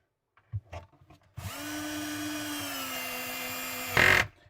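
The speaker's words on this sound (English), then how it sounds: "Put the screws in." A power drill drives 2-inch roofing screws into wood for mounting casters, a steady close whine lasting about two and a half seconds that ends in a brief higher-pitched burst, with a few soft knocks before it.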